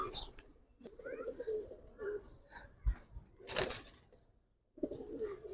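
Giribaz pigeons cooing in a rooftop loft, soft repeated coos and a few chirps heard fairly close, with a voice talking over and between the calls.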